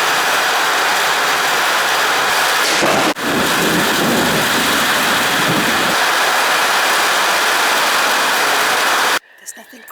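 Heavy rain pours down steadily during a camping trip, a dense continuous roar with a sharp thunder crack around three seconds in, ending abruptly as the downpour cuts to near quiet.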